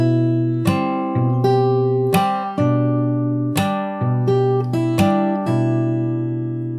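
A guitar plays a riff from the start, a steady run of about ten plucked notes and chords, each ringing into the next. It is close and clear, with no voices.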